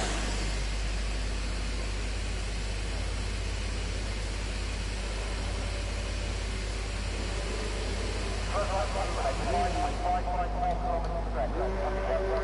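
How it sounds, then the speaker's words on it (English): F1 cars in the F1 2019 video game rev their engines before a race at Abu Dhabi, a constant engine drone and revving filling the background beneath a commentator's continuous talk. "So you can already hear now the cars readying up their engines."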